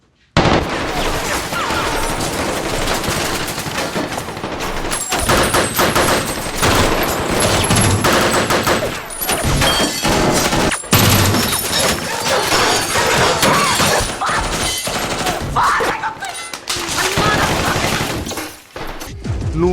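An action film sequence of gunfire, with dense bursts of rapid automatic shots, loud cracks and shattering impacts that go on nearly throughout, mixed with tense soundtrack and occasional shouted voices.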